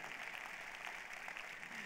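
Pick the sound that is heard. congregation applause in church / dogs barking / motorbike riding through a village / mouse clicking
congregation applause in church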